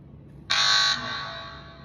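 A DIY Arduino fire detector's phone app sounds a bright, piercing electronic alarm tone, one loud half-second burst that decays slowly against a quiet room hum.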